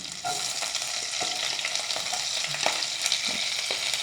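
Garlic and ginger fry in hot oil in a home kitchen pan for biryani, a steady close sizzle with crackling pops and occasional stirring clinks throughout, with no talking.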